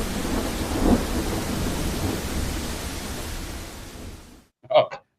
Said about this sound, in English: We're just watching the rain while Brandy chooses.